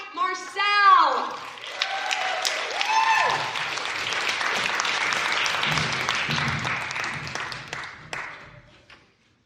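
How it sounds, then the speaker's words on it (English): A crowd at the Annual Valley Slam 2024 poetry slam claps loudly with whoops and cheers, holding strong for several seconds before tapering off to silence. "let's keep that applause going for our final reader of round 2"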